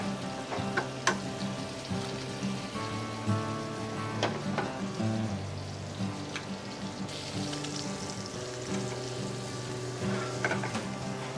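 Two eggs frying in a pan give a steady, close sizzle with a crackly texture, running throughout beneath a sustained tonal background.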